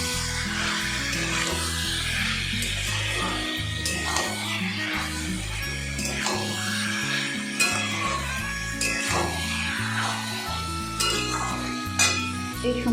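Soaked soybean chunks are stirred with spices in a hot pan, a steady scraping and sizzling that runs the whole time over a low background of music.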